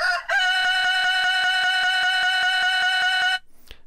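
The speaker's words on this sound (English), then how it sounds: "I've got a rooster sample loaded in here" A sampled rooster crows in one long, bright, sustained call, close and loud, overlaid by a regular ticking pulse, then cuts off abruptly.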